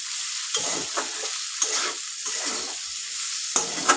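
Okra sizzling steadily in hot oil for a vegetarian dish, with several short, louder bursts as the pieces are stirred and scraped in the pan; close and continuous, with no talking.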